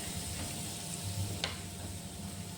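Chicken pieces fry in a pan with a faint, steady sizzle and a brief scrape as they are turned over, quiet and without talking.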